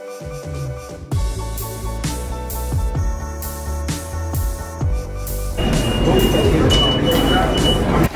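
A subway train rumbles and screeches close by, with loud metallic hums and a rising roar as it moves along the tracks.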